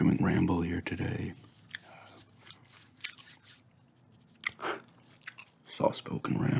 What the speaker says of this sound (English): Just good old gum chewing ramble here for a little bit.